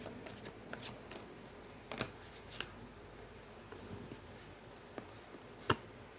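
Tarot cards are shuffled and drawn, giving quiet papery riffles and soft flicks with a few sharper snaps as cards are laid down. There is no talking.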